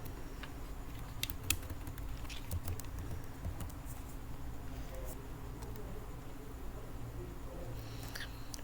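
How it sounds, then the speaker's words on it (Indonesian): Arrow keys being pressed on a computer keyboard, scattered light clicks and taps over a steady low hum, fairly faint. "kita akan pencet panah yang di atas pada keyboard kalian"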